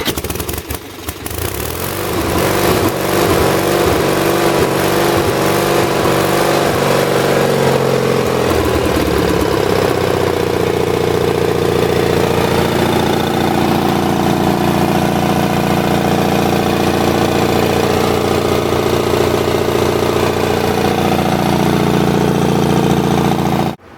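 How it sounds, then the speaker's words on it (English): Onan engine on a Lincoln LincWelder 225 welder, pull-started after running for an hour: a brief cranking burst catches into a loud, steady close-up idle that settles into a constant drone, with no talking. "I'm going to try to do a pull start, and it should fire right back up."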